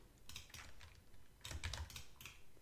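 Quiet typing on a computer keyboard, two short clusters of close, soft key clicks separated by a brief pause.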